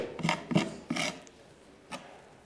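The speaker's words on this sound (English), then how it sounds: "to sand away, scrape away the edges so it even looks more distressed" A paint scraper rasps along the edges of a painted furniture piece to distress it, making a few short, close scraping strokes followed by one more after a pause.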